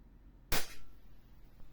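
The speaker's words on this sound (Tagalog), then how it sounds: "FPS test tayo gamit ang .20 BBs" A WE Glock 17 Gen 5 airsoft pistol fires a single .20 BB, one sharp, loud crack with a brief tail, alone against quiet background.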